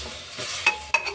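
Chicken feet shallow frying in a pan give a steady, close sizzling hiss, broken by two sharp clinks from stirring near the end. No voices.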